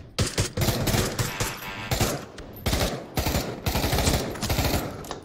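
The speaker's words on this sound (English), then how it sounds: "I'm taking shots, buddy!" Gunfire in the virtual reality shooter Pavlov VR, a rapid string of automatic bursts and single shots with short gaps between volleys, loud and close with no talking over it.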